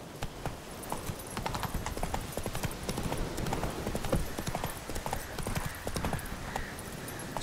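Roach, a horse in The Witcher 3, gallops with rapid, rhythmic hoof clip-clops on the ground, steady and moderately close against a soft outdoor ambience, with an occasional faint snort.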